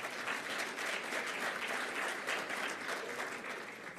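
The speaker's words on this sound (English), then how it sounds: "That warrants another round of applause" Audience at a hydrogen summit conference applauding, a dense, steady wash of clapping from a large hall lasting several seconds, no voices over it.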